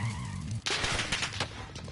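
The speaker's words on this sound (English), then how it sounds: "I'm taking fire." Gunfire from the Call of Duty video game erupts after a low steady hum, loud bursts of shots rattling close by for over a second with no talk.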